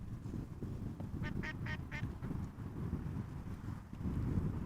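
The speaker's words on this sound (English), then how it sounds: "Yeah, quack, quack, quack, quack, quack" A duck quacks in a quick run of four calls beside a busy airport, fairly close over steady wind and low rumbling background noise.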